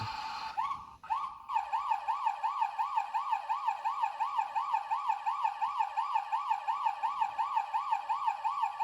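A toy ambulance siren yelps rapidly and continuously, a fast rising-falling electronic wail repeating steadily throughout, nearby and fairly loud.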